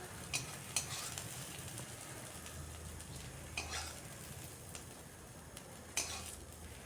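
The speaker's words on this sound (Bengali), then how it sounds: "ওই তেলের মধ্যে আলুগুলা ভেজে নিচ্ছি।" Potatoes frying in mustard oil in a wok, a soft continuous sizzle broken by several sharp scrapes and clinks of a spatula stirring against the pan, fairly faint and with no voices.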